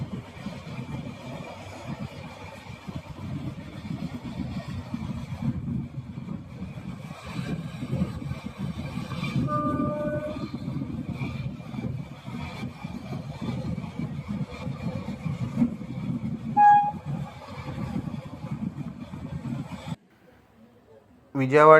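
An LTT express train on the Mumbai–Visakhapatnam run rolls along at high speed, a steady low rumble and rattle heard from inside the coach, with brief tonal squeals midway before the noise suddenly drops away near the end.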